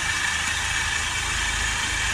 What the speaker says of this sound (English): That to me sounds like an alternator or maybe an AC pump grinding, sort of like a dry grinding noise.